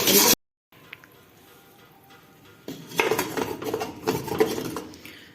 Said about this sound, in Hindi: अभी इसको मज़ीद 5 से 6 मिनट भूनें ताकि अच्छी तरह हमारा चिकन भुन जाए